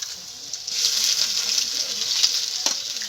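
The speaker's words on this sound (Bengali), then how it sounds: "এখন আমি দিয়ে দেবো কড়াইতে গ্রেট করে রাখা রসুন," Grated garlic and ginger sizzle in ghee and white oil in a kadai, a bright, even crackling hiss with a few soft stirring knocks.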